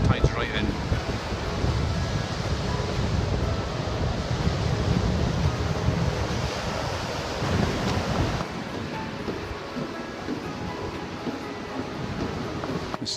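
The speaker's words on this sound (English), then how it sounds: "Wind's getting up a bit. But lots of good waves today." Waves breaking on a beach at high tide under gusty wind, a continuous roar of surf with heavy wind buffeting the microphone throughout.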